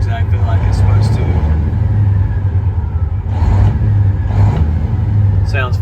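Idling engine of a 2015 Freightliner Coronado glider truck, a steady deep diesel rumble close by with slight swells in revs, while someone talks over it.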